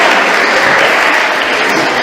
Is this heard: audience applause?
yes